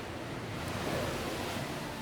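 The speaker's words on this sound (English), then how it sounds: "if you walk down these steps, the ocean is right there" Ocean surf washes steadily just below a villa in Sayulita, Mexico, a continuous soft rushing roar with no voices over it.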